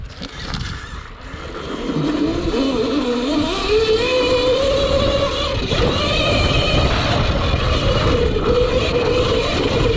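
Regenerative engine braking on a CAKE Kalk electric off-road motorbike, a rising then steady electric motor whine with drivetrain and terrain noise, continuous and close.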